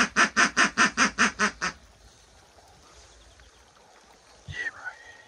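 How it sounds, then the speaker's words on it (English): A rapid run of about eight loud, rhythmic duck quacks at a New Zealand duck-shooting opening morning, then quiet outdoor ambience with a brief honk-like call near the end. "So many ducks, boys."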